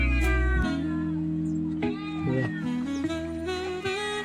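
A cat meows in a string of long, drawn-out, wavering cries, loud and close, with a steady low hum underneath.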